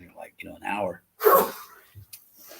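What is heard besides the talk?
sneeze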